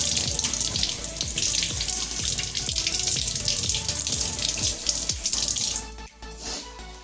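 Vegetables are rinsed under a running kitchen tap, with steady close splashing water and irregular sloshing as they are handled, until the flow cuts off near the end.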